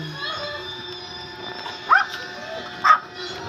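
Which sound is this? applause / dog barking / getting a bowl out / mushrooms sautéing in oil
dog barking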